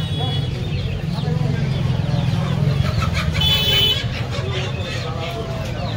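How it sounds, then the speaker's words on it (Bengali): Hybrid and local chickens clucking at a poultry market in Kolkata, a steady close chorus of clucks and a brief crow-like call, with people talking nearby. "তো গাইস দেখুন মুরগিগুলো।"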